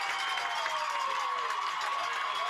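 High school football home crowd at a Paintsville vs. Pikeville game, cheering and applauding in a dense sustained wash, moderately loud and somewhat distant, no talking.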